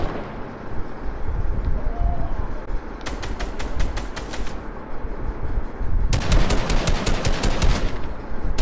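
Gunfire in a multiplayer shooter where a sniper is active, with two bursts of rapid, loud shots over a steady rumbling battle ambience.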